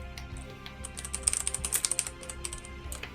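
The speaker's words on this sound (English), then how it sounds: "That's just typing, like, come on." Rapid clicking of a computer keyboard, a quick burst of keystrokes that is loudest in the middle, with a low hum underneath.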